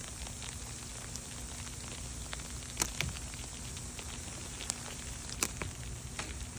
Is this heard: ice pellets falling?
yes